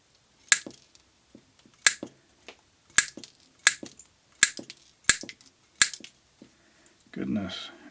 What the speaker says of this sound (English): So they're cutting this iron wire just fine.